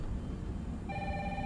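In the survival horror game Resident Evil 3, a telephone starts ringing partway through, a bright steady electronic ring over low background rumble, with no voices.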